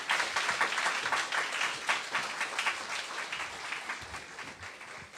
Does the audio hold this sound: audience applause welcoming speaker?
yes